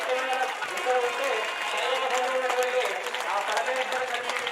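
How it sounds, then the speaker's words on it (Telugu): Applause from guests during the mangalya dharana moment of a Mahashivratri wedding ceremony, a steady wash of clapping over a tonal background with voices mixed in. "అందరూ కూడా గట్టిగా చప్పట్లు కొట్టవలసింది"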